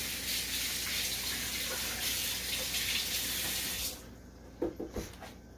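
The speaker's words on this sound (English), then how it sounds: "you can take it to your sink and rinse it" Water from a kitchen sink tap runs steadily over a detachable part of a Ninja DualBrew coffee maker for about four seconds, then cuts off, followed by a few soft clunks as the part is handled.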